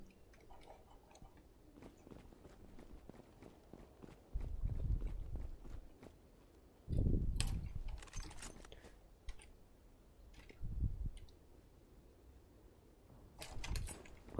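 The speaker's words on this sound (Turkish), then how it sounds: "Ayak sesi mi duydum?" Footsteps in the online shooter Zula come as scattered, soft clusters of steps, with a few louder thumping bursts standing out against a quiet game background.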